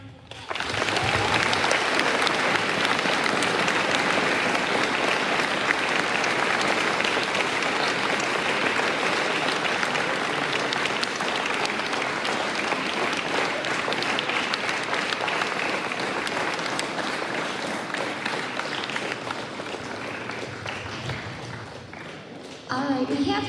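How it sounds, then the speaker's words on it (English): A school audience gives a speaker a sustained, loud round of applause that holds steady for over twenty seconds, thinning slightly near the end before a brief final swell. "Let's give Mr. Elster another round of applause."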